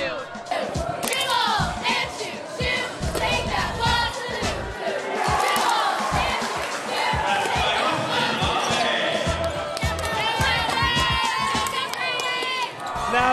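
Packed high-school student section in a gym chanting a basketball cheer, a loud roaring crowd with rhythmic shouted chants and claps, voices and whoops layered throughout, bouncing and echoing in the large room.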